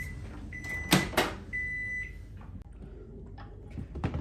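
Two short electronic beeps from a microwave oven, with a high steady tone and faint clatter and handling noises afterward.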